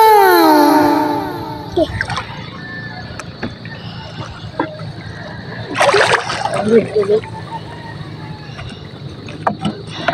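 Seawater splashes and sloshes at a beach in the afternoon, with a short burst of louder splashing midway and fainter water sounds around it, under people talking close by.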